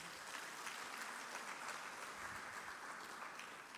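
An audience at an award ceremony gives a round of applause for the recipients, a steady, distant patter of clapping lasting several seconds, with no talking.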